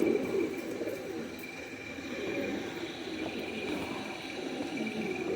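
Deobandi pigeons coo softly and steadily in a loft or coop, a low continuous murmur with gentle swells and no talking.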